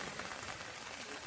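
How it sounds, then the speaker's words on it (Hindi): Rain keeps falling at night, a brief, even wash of drops pattering on a surface, fairly close and steady, with no talk. "अभी तक बारिश हो ही रहा है"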